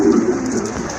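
A pair of large fancy pigeons gives a short, close, low cooing murmur.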